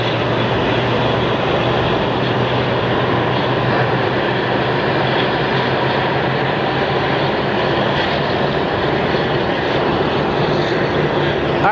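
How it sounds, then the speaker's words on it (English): A SkyWest passenger jet glides in to land at Phoenix Sky Harbor Airport, its engines producing a steady, loud rumble and roar that holds evenly throughout with no voices. "as the SkyWest plane glides in"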